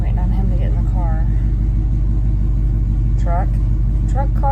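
Ford Bronco engine running with a steady low rumble throughout, heard from inside the vehicle while people talk over it.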